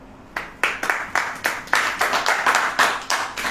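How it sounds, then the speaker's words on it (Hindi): A small audience at a church sermon claps in a quick, fairly regular rhythm, individual sharp hand claps close by, starting after a brief pause and continuing for a few seconds without voices. "ताली बजाओ।"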